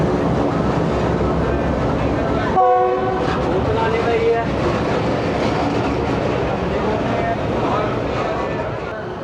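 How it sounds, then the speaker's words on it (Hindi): Train whistle blasts across the Sahiwal railway station platform as a locomotive with a coal train stands by, loud steady rumble of the train throughout, with a short tonal whistle burst partway through. "जैसे ही उतरा वैसे ही विसल हो गया"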